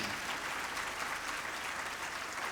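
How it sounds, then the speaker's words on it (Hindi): A crowd claps steadily in a lecture hall after being urged to applaud, the many-handed patter even and sustained throughout without any talking. "नहीं है तो बजाओ तालियां दिलेरी से।"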